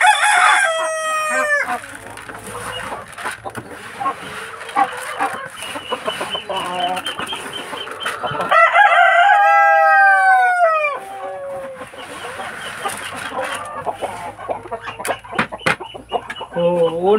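Free-range breeder chickens on a backyard farm cluck and crow at feeding time, with roosters repeatedly crowing loudly over a busy flock chorus, close by.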